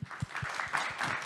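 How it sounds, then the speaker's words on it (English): A small audience claps for three panelists at a community safety event, with scattered hand claps at the start settling into steady, moderately loud applause. "please join me in giving a round of applause to our three wonderful panelists"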